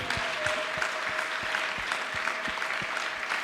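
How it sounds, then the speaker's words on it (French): A church congregation claps along in steady rhythmic unison, roughly three beats per second, over a sustained tone and crowd noise during a worship service. "Applaudis le Seigneur des Seigneurs."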